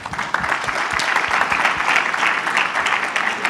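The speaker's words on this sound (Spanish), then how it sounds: "un aplauso, por favor" Steady audience applause at a construction-industry congress debate, dense continuous clapping from a seated crowd lasting throughout, fairly loud and close with no voices over it.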